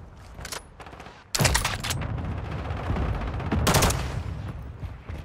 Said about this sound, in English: Hostile sentry is online.